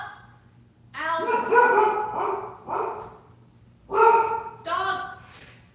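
A dog barks in bursts of several loud, fairly close woofs and yips, with pauses between volleys, during a live bellydance lesson.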